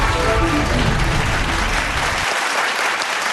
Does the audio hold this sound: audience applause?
yes